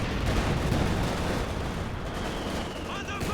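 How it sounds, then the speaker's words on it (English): Continuous battlefield din from a Company of Heroes 2 match, with a mortar pit firing amid dense, rumbling gunfire and artillery that stays loud and steady throughout, no individual shots clearly separated. "Mortar pit is just left to fire."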